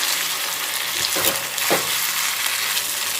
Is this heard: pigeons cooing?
no